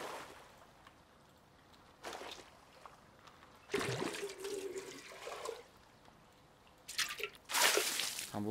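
Water splashing and pouring in the Rust video game, a few loud bursts of spilling liquid with quieter dripping in between, heard alone.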